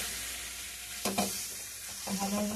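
Boiled potatoes, cooked in their skins and salted, sautéing in a pan, a steady close sizzle with two short bursts of stirring.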